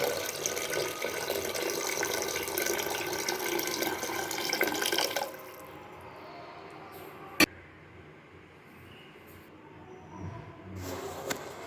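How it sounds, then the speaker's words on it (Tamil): Water pours steadily into a cooking pot of sautéed beans with a loud, rushing splash for several seconds, then stops, leaving quiet clinks and faint handling sounds. "தேவையான அளவு தண்ணி சேர்த்துக்கலாம்"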